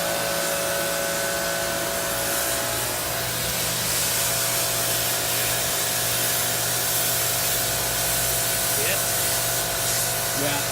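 A pressure washer spraying from behind a weld on a small passenger vessel, a loud steady hissing spray that runs unbroken throughout, with faint voices under it.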